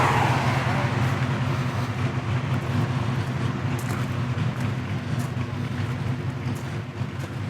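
Mopar muscle cars, including a Dodge Challenger Hellcat, Charger Scat Pack and Charger Daytona, cruising together: a loud, steady low engine rumble and exhaust drone that holds unbroken throughout, with no clear talk.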